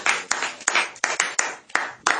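A church congregation claps in a steady, rhythmic beat, about three claps per second, loud and close, with each clap sharp and evenly spaced.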